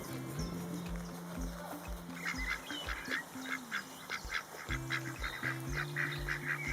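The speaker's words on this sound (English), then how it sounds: "These are our ducks. So we've got an Aylesbury and a Khaki Campbell" Aylesbury and Khaki Campbell ducks quack repeatedly nearby, overlapping nasal calls in short bursts and longer runs.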